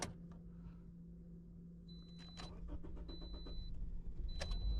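A 2013 Toyota Corolla with a crank-no-start fault cranks and catches, a faint, steady engine drone building slightly toward the end, with no talk.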